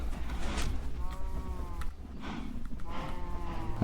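Cows moo on a Minecraft cow farm, several drawn-out, overlapping moos over a constant low background hum.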